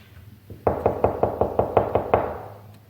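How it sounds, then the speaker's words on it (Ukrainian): About nine quick, evenly spaced knocks on the door of a small toy house, close and crisp against a quiet background. "Давайте постукаємо."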